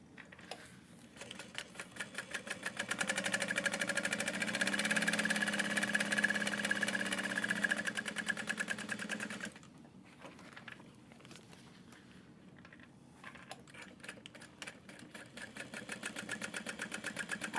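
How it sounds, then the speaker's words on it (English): Sewing machine running steady stitch bursts along the top edge of a handbag, a loud continuous whir for several seconds, then a quieter pause with light clicks before the motor picks up again, with no talk. "I'm adding 2 rows of stitching just so I'm catching that edge on the bottom really securely."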